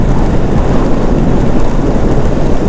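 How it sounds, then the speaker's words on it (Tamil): Heavy rain pours during a trek near Pollachi, a dense, loud and continuous roar of rainfall with no talking. "ஆனால் போக போக மழை இன்க்ரீஸ் ஆகிட்டே இருக்குதுங்க."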